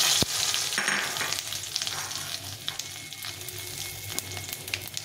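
Dried red chillies, bay leaf, cracked cardamom, cumin and a cinnamon stick sizzle in hot oil for a rohu fish curry, a close crackling fry with sharp pops and brief stirring, no voices.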